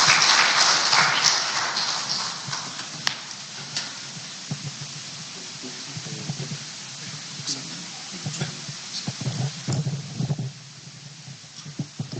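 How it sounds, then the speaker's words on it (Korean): A church congregation applauds to welcome a pastor to the pulpit: loud, dense clapping at first that gradually thins out and fades, with scattered claps and shuffling at the end. "박수로 환영하도록 하겠습니다"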